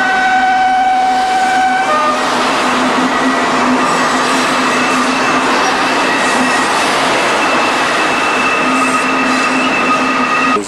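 Class 37 diesel locomotive 37897 hauls the last coal train from Oakdale Colliery past Hall's Road Viaduct, a loud continuous rumble of engine and rolling wagons with faint wheel squeal throughout.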